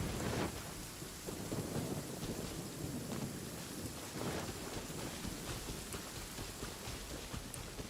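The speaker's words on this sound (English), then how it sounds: "Quite a downpour." A heavy rain downpour in a video game hisses steadily and densely throughout, with low rumbles of thunder rolling underneath and no talk.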